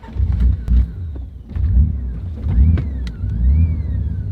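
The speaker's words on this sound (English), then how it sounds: "We'll start it up." A 1991 Nissan 300ZX Twin Turbo engine is running and revving in repeated swells, with a rising and falling turbo whine above a deep, close rumble.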